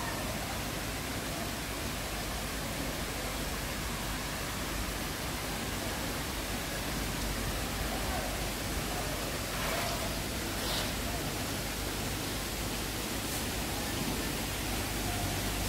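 Gandahati waterfall in Gajapati, Odisha runs at full flow, a steady broadband rush of falling water that carries on unchanged throughout, moderately distant and without speech.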